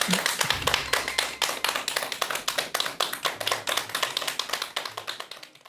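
An audience claps to welcome a professor to a lecture on experiencing death. The clapping is even and rhythmic, with strong claps repeating steadily throughout and a brief voice at the start.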